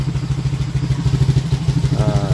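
Motorcycle with an aftermarket 2-inch exhaust running close by, a steady throbbing pulse with a rising rev toward the end, loud and alone.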